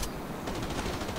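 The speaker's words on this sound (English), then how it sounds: "I could just hear all the gunshots in the game" Burst of rapid gunfire from the video game Rainbow Six Lockdown, a dense rattling volley that kicks in about halfway through and continues steadily over a noisy game background.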